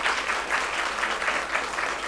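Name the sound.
audience applause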